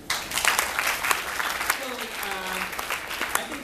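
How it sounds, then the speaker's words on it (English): Applause from an audience at an engineering college speech, a dense, steady clatter of many hands lasting throughout, with a voice briefly speaking over it. "I think we can have a good applause."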